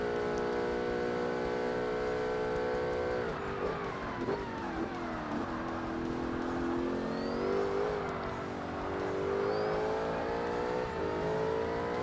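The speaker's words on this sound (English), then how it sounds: "This turbo sounds immense also." A turbo race car engine in Forza Motorsport, R-P1 class, revs high and steady, its pitch dipping and climbing as it shifts and accelerates, loud and continuous with no talking.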